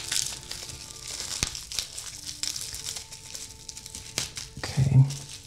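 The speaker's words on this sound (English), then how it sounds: "Next up, we've got a leather strap. So let's unwrap this before we get to the main feature." Crinkling and tearing of plastic and paper packaging around a leather watch strap, close and busy with irregular rustles and a few sharp crackles, a brief voice near the end.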